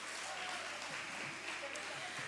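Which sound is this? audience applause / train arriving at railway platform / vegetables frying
audience applause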